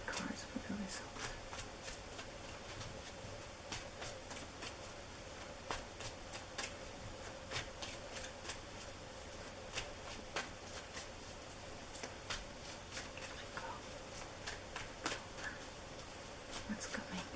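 Tarot cards being shuffled, a steady run of crisp riffles and soft slaps repeating through a low room hiss, close and continuous, with some talking over it.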